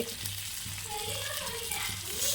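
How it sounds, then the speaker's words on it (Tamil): Fish frying in oil on a hot dosa griddle, a steady close sizzle with a low rhythmic hum underneath, continuous and fairly quiet with no talking. "நம்ம மீனை வறுக்கலாம் மீனை போட்டாச்சு"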